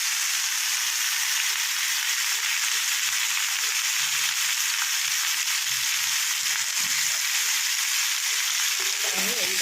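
Steamed raw mango pieces, coated in salt and turmeric, fry in hot oil with a few chillies and cumin seeds; a loud, dense, continuous sizzle crackles steadily close by, with no voices.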